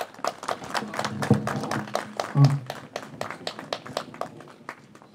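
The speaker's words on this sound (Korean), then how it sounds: "김종규 이사장님을 박수로 모시겠습니다" An audience at an opening ceremony for a memorial hall claps in a scattered round of applause at moderate volume, with a few louder knocks partway through.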